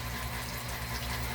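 Water sprays steadily from a shower sprayer nozzle in a continuous, close, hissing rush, loud and unbroken throughout, with no talk.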